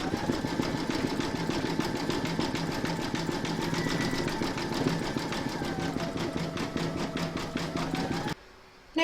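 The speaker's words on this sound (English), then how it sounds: "You're now going to place your hoop back into your machine and stitch round number 5, and that's going to zigzag around the raw edges of the contrasting fabric." Embroidery machine zigzag stitching around the raw edges of contrasting fabric in a hoop for a takeaway coffee coaster, a fast steady mechanical chatter running loudly for about eight seconds before stopping abruptly.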